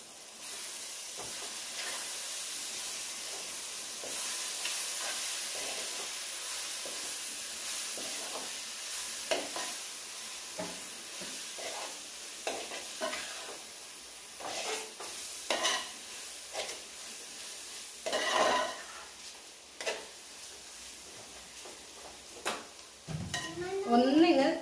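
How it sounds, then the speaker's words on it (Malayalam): Masala stirred in a hot pan for an Onam sadya dish, a steady sizzling hiss under intermittent scraping stir strokes that grow louder and more frequent toward the end, heard up close. "നന്നായിട്ടൊന്ന് ഇളക്കി കൊടുക്കാം"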